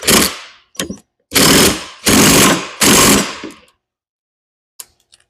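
Impact wrench tightening a worn fork bolt with a washer on a Yamaha IT175 fork, loud close-up bursts: a short blip, then three sustained hammering runs of about a second each, followed by silence and a faint tap.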